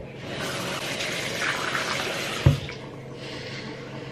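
Water runs steadily from a tap during mouth rinsing, a close hissing flow with a single sharp knock partway through.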